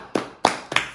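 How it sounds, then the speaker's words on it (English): Three sharp claps from a single pair of hands in a quiet room, evenly spaced. "Let's give him a round of applause."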